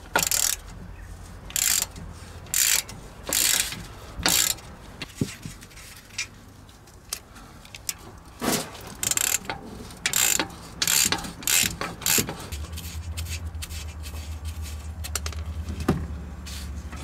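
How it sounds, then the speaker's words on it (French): Ratchet wrench clicking in repeated short bursts while exhaust silencer mounting bolts are loosened and removed, close and fairly loud, with brief pauses between bursts and a low mechanical hum underneath. "Déposez les vis de fixation."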